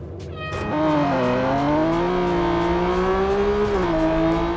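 Racing car engines in the Real Racing 3 mobile game, run on a Chuwi HiBox Hero mini PC, holding a loud, sustained whine whose pitch rises and falls gently as the cars accelerate and ease off.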